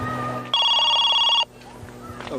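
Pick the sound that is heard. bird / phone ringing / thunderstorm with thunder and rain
phone ringing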